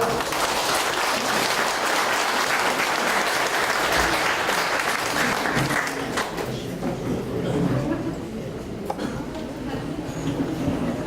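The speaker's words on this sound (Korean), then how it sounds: "큰 박수 부탁드립니다" A large crowd at an outdoor Korean election campaign rally claps loudly and steadily for several seconds, then eases to a thinner, scattered applause toward the end.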